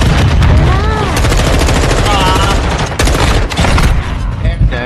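Rapid video game gunfire rattles in dense bursts with booming impacts, loud and close, while voices talk over the shooting.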